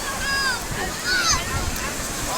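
Sea waves wash onto Saidia beach in a continuous, fairly loud surf with wind buffeting the microphone and faint voices in the background.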